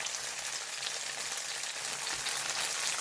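Tofu slices pan-frying until golden on both sides for a braised tofu dish give off a steady, dense sizzle that holds at an even level throughout, with no voices over it.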